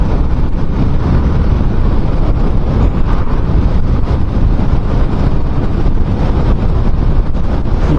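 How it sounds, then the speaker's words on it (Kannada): Strong wind roars against a rider on a fast-moving motorcycle, a loud, steady, unbroken rush of buffeting air with no voices. "ಗಾಳಿ ಭಾಳಿದೆ."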